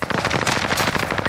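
Rapid automatic gunfire from a video game shooter, a dense, loud burst of closely spaced shots that keeps going through the whole short moment with no talk.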